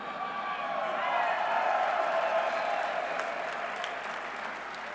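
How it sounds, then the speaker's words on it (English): Applause and cheering fill the room at a university football coach's introductory press conference, steady clapping swelling then holding for several seconds, with a voice faintly present. "We got people cheering for the dogs here"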